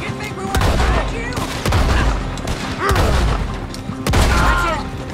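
Gunfire erupts in a Red Dead Redemption 2 shootout, loud bursts of rapid shots and booms recurring every second or so over a constant background din, with faint voices at times.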